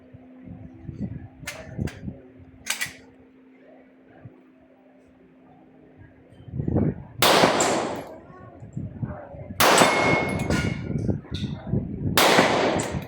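Sharp popping shots from a toy cap gun, a few spaced cracks early, then louder bursts later, mixed with clicking reloading and handling noises and background voices.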